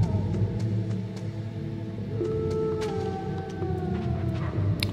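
A dog in Metal Gear Solid howls in long, wavering, gliding tones over a dense rumbling backdrop, with faint ticking sounds scattered throughout.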